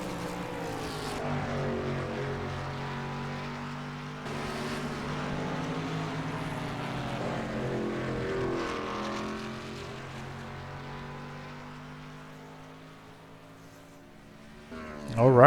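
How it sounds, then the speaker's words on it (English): Race car engines roar at full throttle at Watkins Glen, a sustained, moderately distant drone with shifting pitch and no voices, ending in a louder burst near the finish. "No half throttle for Daryl Waltrip."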